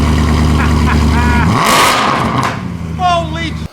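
A Mercedes-AMG C63 engine revs hard and close, a loud sustained roar that rises, cuts off abruptly, then blips again with a lighter rev near the end, with a voice talking over it.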